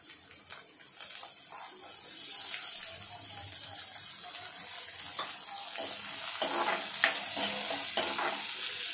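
Cumin seeds and curry leaves sizzling in hot oil, a steady soft hiss with scattered light crackles and stirring scrapes, fairly quiet and close, with no talking.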